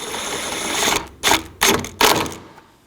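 Seven-millimetre radiator bolts on a 2018-2024 Chevrolet Equinox 1.5L being snugged down with a power driver: a long whirring run, then three short sharp bursts in quick succession, close and loud, with no talking.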